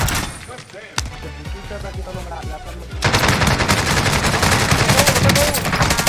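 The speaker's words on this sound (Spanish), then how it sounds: "Ya me están disparando." Rapid automatic gunfire in the Call of Duty Warzone video game, starting sparse with scattered shots, then turning into dense, loud sustained bursts for the last three seconds while players talk over it.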